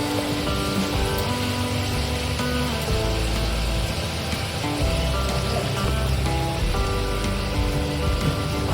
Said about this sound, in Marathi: तेलावर छान परतून घेऊया कांदा